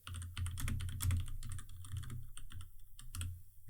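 Close, steady typing on a computer keyboard, a rapid patter of key clicks with brief pauses, heard alone.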